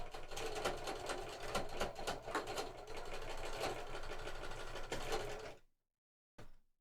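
A home sewing machine running steadily with a fast mechanical whir and ticking for about five seconds, then stopping abruptly, followed by a brief short burst.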